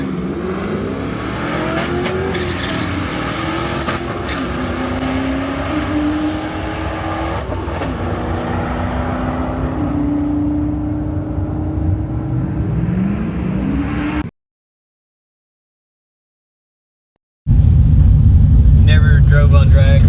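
A stock 4.8 V8 car running about 10 pounds of boost on drag tires launches down a drag strip, its engine roaring loud and close through rising gear pulls before a sudden cut, then a heavy idle rumble resumes.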